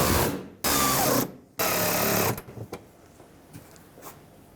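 A power tool drives the mounting screws through the fender of a 2008-2010 Ford F-250 in two loud buzzing bursts, followed by a few quiet clicks and taps.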